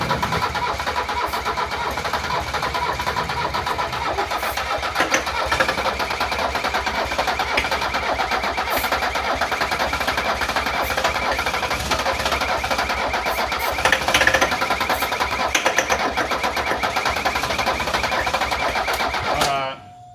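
A 1978 Mercedes 300CD with a swapped engine cranks and catches, then runs loud and close for the full twenty seconds, a steady mechanical drone with rapid rhythmic pulses and a few sharper bursts before it cuts off at the end.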